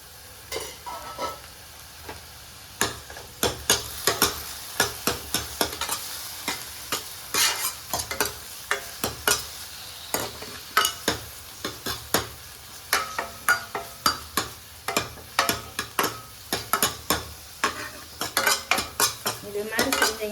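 Small tomatoes sauté in oil in a pan while a utensil stirs them, giving frequent sharp metallic clinks and scrapes over a soft sizzle, close and fairly loud, with no voices.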